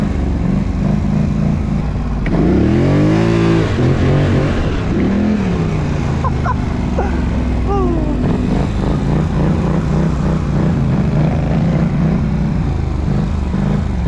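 A Polaris Scrambler 1000 ATV engine revs up hard and holds a loud, rising roar close by, with pitch sweeping up and down through several bursts and no talking.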